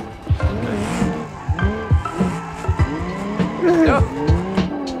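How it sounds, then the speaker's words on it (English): Tandem drifting cars in BeamNG, the racing game, with tire squeal swooping and wavering in repeated bursts over steady engine roar, close and loud, while a voice talks over the action. "Tandem drift."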